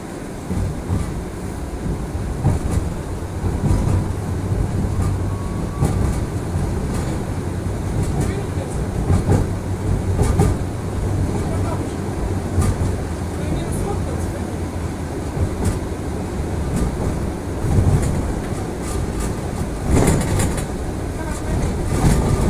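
Moscow tram route 17 rolling along its rails toward the Ostankino terminus, a loud continuous rumble with rhythmic wheel clatter and a steady low motor hum heard from inside the car.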